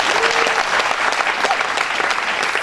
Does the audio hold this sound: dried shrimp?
no